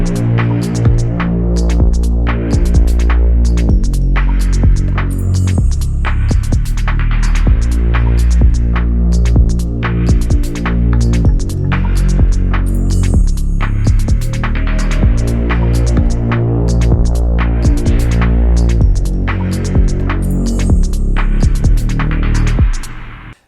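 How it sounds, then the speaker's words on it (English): A Burial-style Reese bass patch on a Novation Peak synthesizer, a loud, thick, detuned low drone throbbing continuously with rhythmic pulses and chord movement for over twenty seconds, alone without talk, cutting off at the end. "how to make a burial style Reese bass on the Novation Peak"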